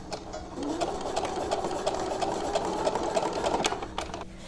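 Sewing machine back-stitching through a fabric face mask to hold a wire in place, a steady rapid whirring hum with regular needle ticks, close and continuous, no one talking.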